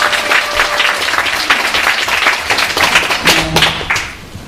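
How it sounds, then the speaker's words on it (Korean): Applause from an audience at a Korean theatre award ceremony, lively close clapping with a few sharp taps and a brief tonal note, tapering off at the end. "그럼 박수 쳐주세요"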